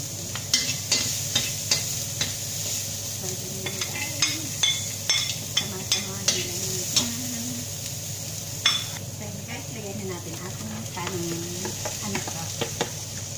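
Vegetables and garlic stir-fry in a hot pan for pineapple fried rice, a steady close sizzle punctuated by repeated scraping and clanking of a utensil against the pan, with faint murmuring talk in places.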